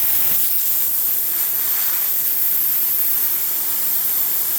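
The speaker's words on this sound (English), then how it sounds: "I'm gonna try to spray on some glass" Compressed air blasting from a shop air hose onto glass after the compressor tank has been drained: a loud, steady, close hiss that holds evenly for the whole stretch.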